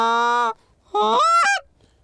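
A person imitates a goose call by pushing air through the hands, giving two loud, close honking calls: a steady honk, a pause, then a rising, breaking honk, with silence between.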